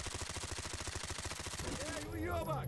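A Vector submachine gun emptying a full magazine in S.T.A.L.K.E.R. GAMMA: a fast, unbroken burst of loud, closely spaced shots for about two seconds, then abruptly stopping as a voice begins speaking.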